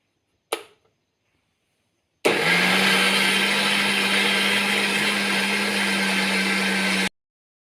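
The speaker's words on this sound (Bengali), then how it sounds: "তাই ব্লেন্ড করে নিতেছি ডালটুকু।" An electric blender runs steadily at high speed for about five seconds, grinding soaked lentils into a batter, loud and close with a constant motor whine, preceded by a brief knock.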